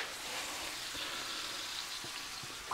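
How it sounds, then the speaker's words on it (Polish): Soft, steady sizzling of vegetables frying in a pan for lentil goulash, a continuous crackling hiss with faint occasional pops and no talking. "Smażą się same warzywa."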